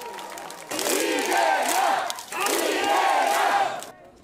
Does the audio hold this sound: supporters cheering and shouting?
yes